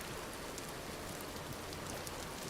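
Steady rain falls in the game Vintage Story, a soft, even, continuous hiss at low volume with no distinct drops and no talking.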